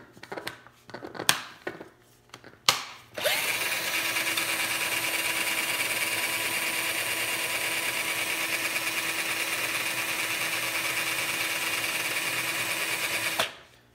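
Ryobi P4002 cordless drain auger motor spinning its cable to clear a clogged drain, starting after a few short clicks and bursts, then running at a steady loud whine for about ten seconds before stopping abruptly.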